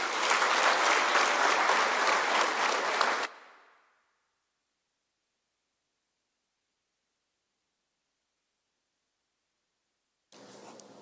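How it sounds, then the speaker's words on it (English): Loud, dense applause from a crowd at a university graduation ceremony for about three seconds, then it fades into silence before clapping briefly resumes near the end. "let us give Dr. Mako another round of applause"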